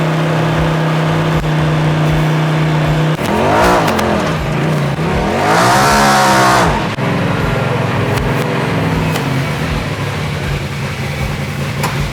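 A 2020 Polaris RZR Pro XP with a full tuned exhaust idles loudly up close, then revs sharply in a few rising bursts before settling back to a rumbling idle.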